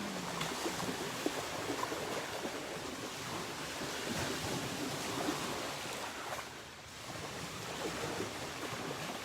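Continuous rushing water with a broad hiss, steady and fairly loud throughout, dipping briefly before resuming, with wind mixed in.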